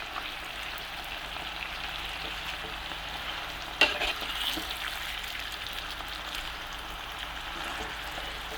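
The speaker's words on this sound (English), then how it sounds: "let's stir it together." Spinach and potato greens, stems included, stirred in a frying pan, giving a continuous close sizzle with soft scraping and one sharp clack of the utensil partway through, no voices.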